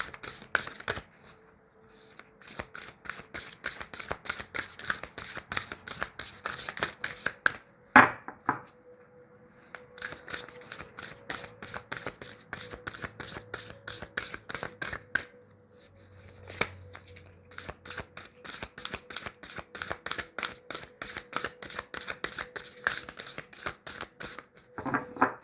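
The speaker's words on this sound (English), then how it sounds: "They have me start with one deck, shuffle, shuffle, shuffle, shuffle" A deck of tarot cards is shuffled over and over, with dense bursts of riffling and snapping card noise that briefly pause and then resume, close and fairly quiet, with no talking.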